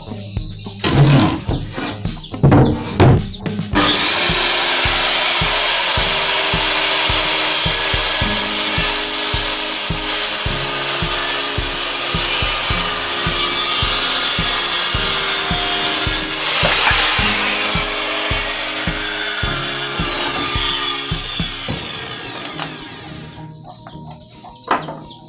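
A Maktec MT 583 circular saw spins up after a few handling knocks and runs loud and close for about twenty seconds, its whine shifting as it cuts into wood, then winds down.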